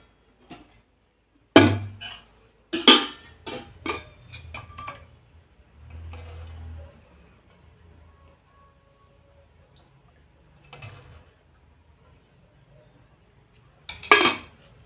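Metal utensils clink and clatter against a kadhai as oil is added while cooking a green chilli and garlic paste for wild tandulkundra greens, with sharp irregular knocks separated by quiet gaps.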